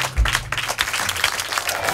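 Audience applause for band members at a VIP concert, a short burst of clapping that carries on steadily through the moment.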